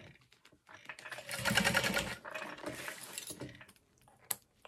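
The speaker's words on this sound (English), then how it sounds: "I'm gonna go ahead and baste this in place now" A sewing machine bastes backpack hardware in place with quiet bursts of stitching, stopping and starting between soft clicks and handling noises.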